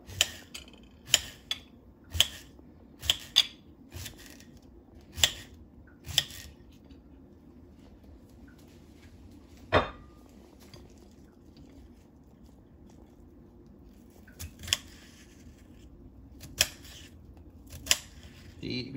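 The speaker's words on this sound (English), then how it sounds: "We're gonna dice up some vegetables, which are good for the tacos. Tomato, the cucumber" A sharp knife chops tomato and cucumber on a cutting board for fish tacos, giving a run of quick, crisp chops, then a few spaced-out cuts with quiet pauses between them, close and clear.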